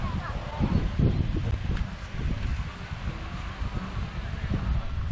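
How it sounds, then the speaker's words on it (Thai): Strong wind buffets the microphone on Hat Chao Samran beach in Phetchaburi, Thailand, as a close, continuous low roar with gusty surges. "โอ้ยลมแรงทีเดียว"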